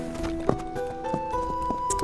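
A donkey's hooves clip-clop in a steady, moderately close rhythm of hoof strikes, with a faint tonal hum underneath and no talk.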